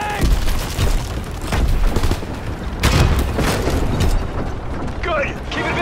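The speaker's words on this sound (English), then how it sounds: "Throwing bridge grenade!" A grenade explodes in the World War II shooter Call of Duty WWII, heavy booms bursting amid rattling gunfire and mechanical clatter in a dense, loud battle mix.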